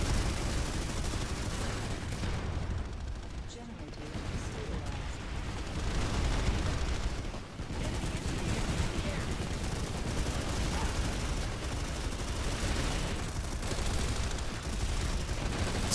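Continuous dense gunfire and blasts in a Planetside 2 battle, a mana turret among them, pounding without pause as a thick wall of combat noise, with voices faintly mixed underneath.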